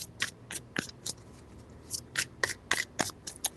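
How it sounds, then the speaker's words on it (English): Tarot cards are shuffled by hand in a quiet room, a series of quick, crisp riffling bursts spaced irregularly, about a dozen soft flicks and slaps close to the listener, with no talking. "3 shuffles."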